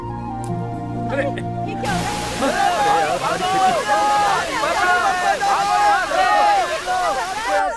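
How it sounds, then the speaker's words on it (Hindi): Rushing floodwater surges through a flooding village in a Hindi-dubbed action film scene, a loud continuous roar and slosh that swells in after a short musical lead-in, with voices shouting over it. "पानी तेजी से भर रहा है, घर डूब रहे हैं।"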